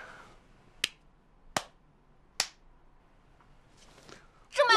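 Three sharp, isolated hand claps ring out at an even, deliberate pace in a quiet indoor scene, each crisp and close, followed by a brief burst of noise at the end.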